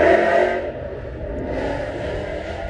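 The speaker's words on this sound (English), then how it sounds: "that car is slow. It's making a lot of noise" A loud car engine revs noisily close by, passing near a Yukon Denali under repair, its broad roar swelling then easing over a couple of seconds with no talk.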